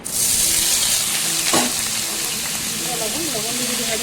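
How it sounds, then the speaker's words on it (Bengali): Paneer pieces drop into hot white oil in a wok and sizzle loudly and continuously, with a brief clatter partway through and a voice faintly talking near the end. "গরম তেলে পনিরের টুকরোগুলো দিয়ে দিচ্ছি"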